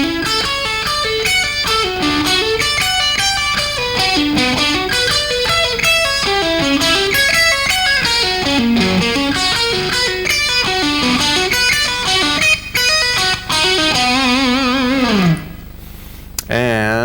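An electric guitar plays a slow string-skipping pattern of single notes jumping between strings, clean tone, ending with a short wavering note before stopping.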